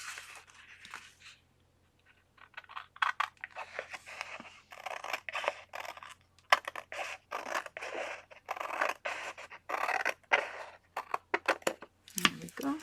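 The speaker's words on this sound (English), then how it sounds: "Using the big long scissors so we don't have any little jiggity jaggedy bits." Big long scissors cut through paper while trimming off the excess from a scrapbook calendar page, a run of crisp close snips and scratchy slices with short pauses and soft talk in between.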